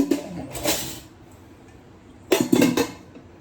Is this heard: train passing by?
no